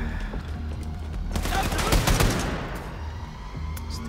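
Gunfire in the shooter game Wolfenstein II, a rapid burst of shots swelling in the middle of the clip, with a voice talking over it.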